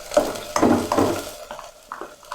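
Green onion being lightly fried in a little oil in a pan, with several short bursts of stirring and scraping over a faint sizzle, close by.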